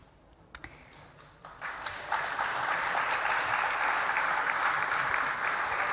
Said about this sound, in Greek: Θα μεταφέρω το χειροκρότημά σας στο διευθυντή του σχολείου